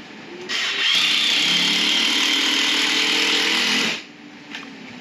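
A power drill drives long screws into a door frame, one loud, close, sustained whine of about three seconds that winds up and then cuts off.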